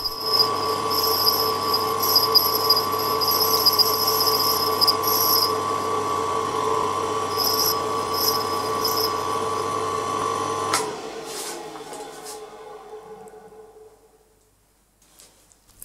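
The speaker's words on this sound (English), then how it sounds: "As I rotated the spindle, I advanced it slowly towards the wheel." A grinding wheel shapes a custom tap held on a Proxxon PD 250/e lathe. A steady, high-pitched motor whine with grinding hiss runs for several seconds, then cuts off and winds down into near silence.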